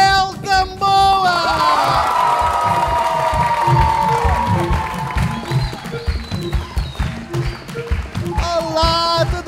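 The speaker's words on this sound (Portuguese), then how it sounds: "aplausos, gritos para Mel Gamboa" A studio audience at a TV show applauds, shouts and cheers loudly and steadily for a presenter, with whoops and excited voices rising above dense clapping throughout.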